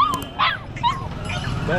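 Puppies around five weeks old yipping and whimpering at a pet market on Broadway in Chennai, several high, quick barks close by in overlapping bursts, with people talking in the background.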